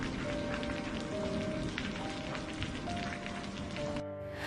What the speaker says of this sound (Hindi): वैसे भी बहुत तेज बारिश हो रही है।